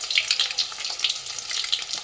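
Eggs fry in mustard oil in a wok, a steady bright sizzle with crackling pops throughout, close and fairly loud with no voices.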